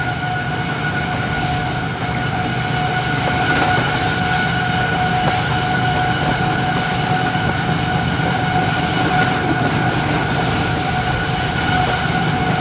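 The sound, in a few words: Hazara Express train passing by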